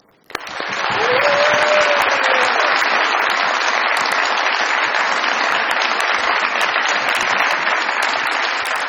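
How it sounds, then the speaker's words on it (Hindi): A studio audience at a televised comedy talk show breaks into loud, sustained applause that swells within a second and holds steady, with a brief whistle near the start. "बहुत सारी तालियों में उनको वेलकम कीजिएगा"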